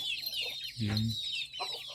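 Chickens raised on a rural farm cluck close by, with a louder, throaty cluck burst in the middle and softer clucks and chirps around it.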